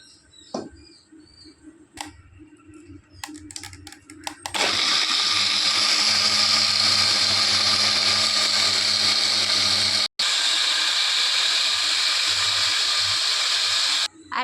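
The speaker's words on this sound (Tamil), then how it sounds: "கொஞ்சம் தண்ணி ஊற்றி அரைக்கணும்." A mixer grinder blends soaked cashews with water. It starts after a few clicks and handling knocks, then runs as a loud, steady whirring roar for about ten seconds, with one brief cut-out partway through.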